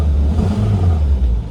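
An FSO Polonez engine, warm after idling, revs up under the throttle, a close, loud, throaty rise with a deep rumble sustained through the short burst, no voices.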